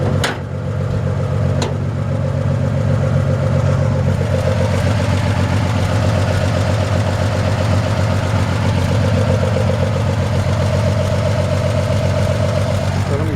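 A 1956 Ford F100 pickup's engine idles steadily nearby, a loud, even low rumble with a couple of early clunks and a voice talking over it.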